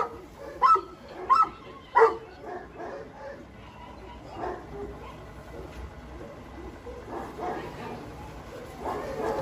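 Rottweiler dogs give three loud, sharp barks up close, then softer yips and whimpers while people talk in the background.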